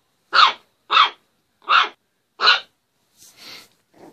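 A dog barks four times in a sharp, evenly spaced series close by, followed by a couple of quieter huffs and breaths; no one speaks.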